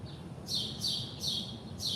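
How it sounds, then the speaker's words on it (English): Small birds chirp close by in daylight, four short bright bursts of tweeting spaced roughly evenly, each about a third of a second, over a faint low background hum. "These birds always want to come right here."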